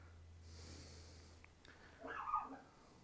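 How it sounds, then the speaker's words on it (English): A small dog, a shop mascot, gives a single faint, short bark-like snort indoors amid quiet room noise. "That little bark was from Yuki."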